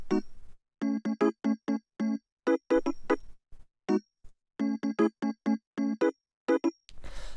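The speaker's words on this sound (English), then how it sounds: "we have the piano stab, which sounds like this." Short, punchy piano chord stabs from a deep minimal house track play alone in a clipped, syncopated pattern, bright, close and evenly loud, with brief silences between groups.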